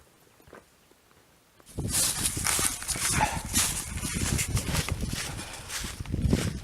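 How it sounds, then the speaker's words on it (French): A dog outdoors on a mountain hiking trail, heard as a quiet start followed by loud, close, continuous rustling and padding movement with brief yips or panting, and no talking. "mon chien."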